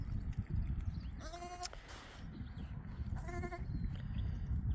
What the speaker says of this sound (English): these are absolutely gorgeous lambs